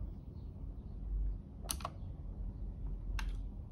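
Two short bursts of key clicks on a computer keyboard, spaced well apart, as a command is typed into a Windows command window over a steady low background hum.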